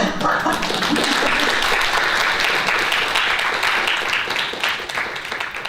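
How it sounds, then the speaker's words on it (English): Audience applause for author Becky Lomax after a hiking talk: a dense, steady wash of many hands clapping throughout, fairly close, thinning slightly toward the end. "Give Becky a round of applause"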